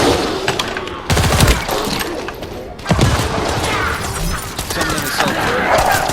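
An assault turret fires in the shooter The First Descendant, a rapid crackling barrage of loud close shots with two heavier bursts punching through, a dense clatter throughout.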